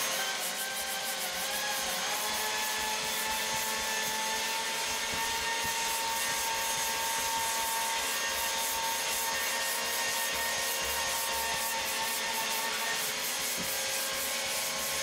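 Sanding filler on a carbon fiber BMW M roof with 320 grit paper, a continuous, close, loud rubbing hiss with a fast repetitive stroke rhythm and no talking.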